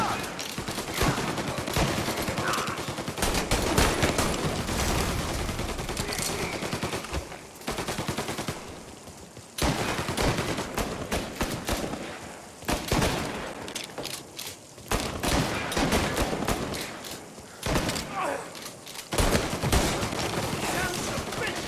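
Rapid gunfire from a Mafia Definitive Edition shootout: loud, dense bursts of automatic and repeated shots that continue almost without pause, with shouted voices mixed in and brief lulls between volleys.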